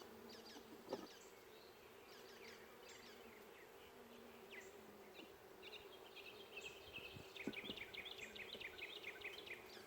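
A dense, continuous buzz of many honey bees at a month-old nucleus hive fills the air, faint overall, with occasional sharper buzzes of individual bees passing close.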